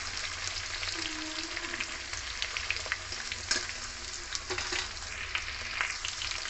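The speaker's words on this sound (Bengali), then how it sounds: "আলু আর গাজরটা এমন ভাজবো যে সেদ্ধ হয়ে যায় তেলে অর্ধেকটা" Potatoes and carrots frying in oil for a mixed vegetable curry with jackfruit seeds, an even crackling sizzle up close with occasional scraping stir clicks, no voices.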